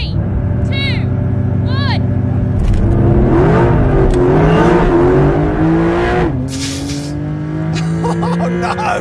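A Porsche 911 GTS hybrid of the 992.2 generation starts and revs loudly, its engine note climbing and falling in sweeping pitch, with a brief tire squeal and voices heard at times.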